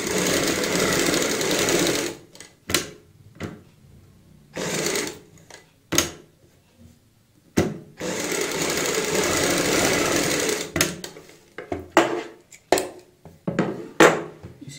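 A sewing machine runs in bursts, stitching both sides of a folded fabric strip for a kurti neckline, with steady whirring runs broken by pauses and short clicks between passes.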